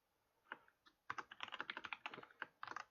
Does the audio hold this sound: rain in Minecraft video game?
no